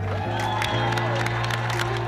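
An audience at a NASA event breaks into applause, a dense, continuous patter of clapping with a few sharper claps and faint cheering, heard over a steady low electrical hum.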